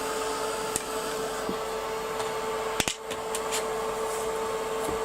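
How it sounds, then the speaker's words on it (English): Heat gun heating up: a steady, loud blowing whir with a constant hum tone running throughout, broken by a few small clicks and knocks. "Get my heat gun nice and hot"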